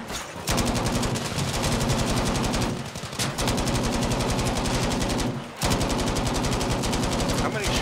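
Long, loud bursts of rapid machine gun fire in Battlefield V, a steady pulsing chatter broken by two brief pauses, close and dominant, with a voice faintly underneath.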